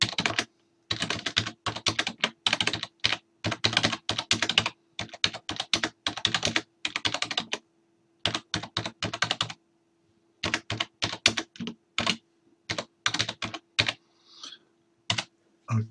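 Someone types a paragraph on a computer keyboard: close, crisp key clicks come in quick bursts broken by brief pauses, alone with a faint steady hum beneath.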